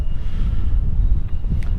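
Strong wind on a hilltop buffets the microphone with a loud, low, rumbling roar that gusts unevenly and stays close throughout, with no talking.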